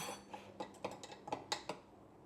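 A spoon taps and scrapes inside a container while chia seeds are stirred, giving a string of light, irregular clinks close by with no talking.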